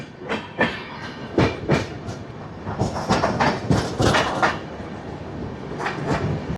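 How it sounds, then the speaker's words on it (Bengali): The Nilachal Express, train 12875, runs at night from Jaleswar toward Hijli station in West Bengal. Inside the coach, a loud steady rumble carries rhythmic clickety-clack bursts as the wheels pass over rail joints. "জলেশ্বর স্টেশনের থেকে আমরা এগিয়ে চলেছি এই ট্রেনের পরবর্তী স্টেশন হিজলির উদ্দেশ্যে"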